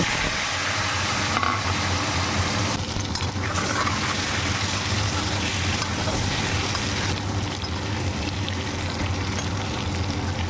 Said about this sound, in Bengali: এই গরম তেলে সামান্য লবণ ও হলুদ গুঁড়ো দিয়ে ডিমগুলো একে একে এর মধ্যে ছেড়ে দেব এবং ভালোভাবে নেড়ে চেড়ে লাল লাল করে ভেজে তুলে নেব